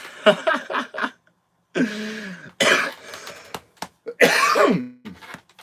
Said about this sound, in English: Now let me clear my throat.